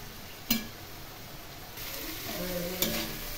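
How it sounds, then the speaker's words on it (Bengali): Pointed gourd, prawns and potatoes being sautéed with spices in a pan, a steady low sizzle with occasional sharp scrapes of stirring, close and moderately quiet, no talking. "এখন খুব ভালো করে এই পটল চিংড়ি এবং আলু কষিয়ে নেব মশলার সাথে।"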